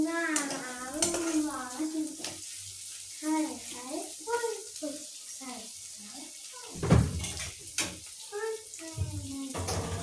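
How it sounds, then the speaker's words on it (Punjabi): Onion and peas roasting in a pan give a low sizzle and stirring scrape that runs almost the whole time beneath someone speaking, with a louder clatter near the middle. "ਨਾਲ ਹੀ ਪਾ ਦਾਂਗੇ ਮਟਰ ਮਟਰ ਵੀ ਨਾਲ ਭੁੱਜ ਜਾਣਗੇ"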